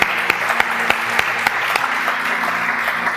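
Church congregation gives applause for the Lord, a steady wash of clapping with sharp, evenly spaced beats standing out, as if someone claps to a rhythm, and a faint sustained tone underneath.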